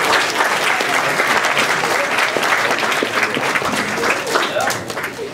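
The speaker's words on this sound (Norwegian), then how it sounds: "Applaus for henne igjen!" Audience applause for a performer at a school stage show, loud, dense clapping that holds steady for several seconds before easing off slightly at the end, with some crowd voices mixed in.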